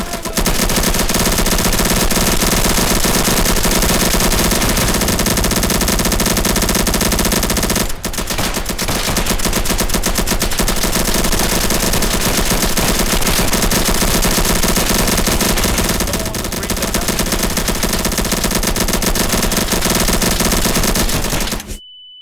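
Sustained video game machine-gun fire aimed 45 degrees upward, a loud, dense, continuous rattle lasting about twenty seconds with one short break before it cuts off abruptly.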